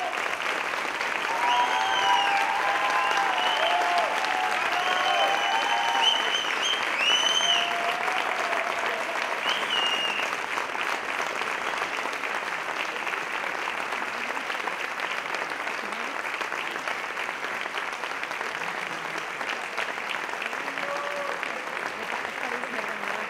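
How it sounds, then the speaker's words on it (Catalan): Audience at an anniversary ceremony giving sustained applause, a broad, even patter of many hands clapping in a hall, with a few brief whoops early on before the clapping settles and carries on at a steady level. "demanem un altre aplaudiment"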